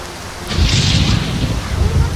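Thunder rumbles loud and close over steady heavy rain in Skyrim, a deep roll building after a sharp crack near the half-second mark and carrying on through the downpour.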